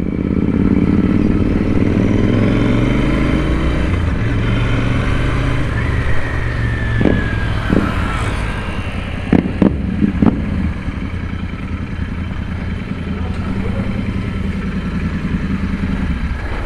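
Royal Enfield Interceptor 650 motorcycle being ridden, a steady loud engine drone with wind rumble throughout and a few brief clattering knocks partway through, no voices.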